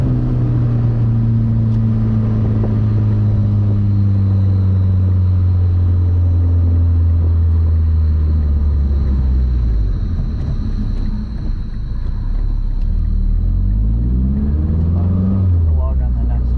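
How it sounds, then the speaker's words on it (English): Mazdaspeed 3 turbocharged engine fitted with an Injen cold air intake, revving loudly up and down close by with a deep droning rumble and rising and falling pitch sweeps. "That's the turbo noises I wanted."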